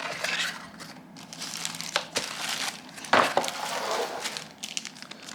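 A Royal Kludge RK84 wireless mechanical keyboard box being opened, with close crinkling and rustling of packaging and a few sharper crackles and tears, heard alone without talk.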